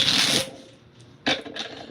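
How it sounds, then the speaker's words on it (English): A deck of tarot cards being shuffled by hand, a dense riffling burst up close, then a pause and two shorter shuffling bursts. "The cards are not wanting to shuffle. Let me give this deck a few more shuffles"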